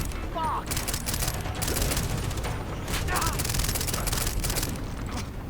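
Rapid submachine gun fire in a shooting video game comes in repeated bursts, loud and dense, mixed with explosions and game noise while someone talks over it.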